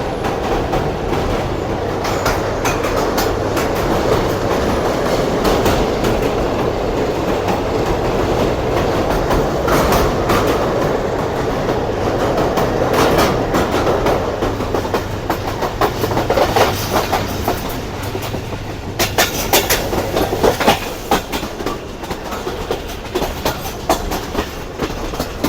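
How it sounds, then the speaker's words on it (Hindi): A Subak Raftar railcar runs along the tracks near Lahore, a continuous loud rumble with rhythmic clattering of wheels over rail joints and occasional squeals, with no talking. "इस वक्त हमारी ट्रेन स्किप करने जा रही है शादराबाग जंक्शन रेलवे स्टेशन को।"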